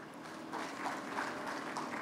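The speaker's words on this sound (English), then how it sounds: "Let's have a collective round of applause for the same." Conference audience applauding together after a panel contribution, a dense steady patter of claps from a crowd that swells slightly and holds at a moderate level throughout.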